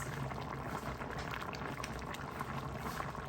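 Spinach soup bubbling at a rolling boil in a pot, a steady dense churn of bubbling and popping that runs unbroken and fairly close, with no voices over it.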